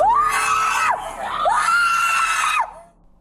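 A woman resisting arrest at a major airport lets out two long, loud, piercing screams close by, separated by a short breath, with no other voices.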